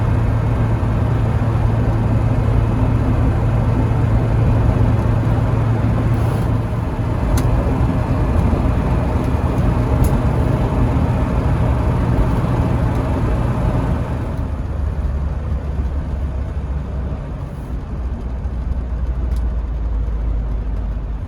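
A 1974 BMW E12 520 drives on the road, its engine droning loud and steady as it pulls through the gears, with a drop in pitch around a shift partway through.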